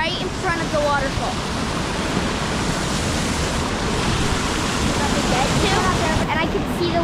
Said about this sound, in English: Standing right in front of the waterfall.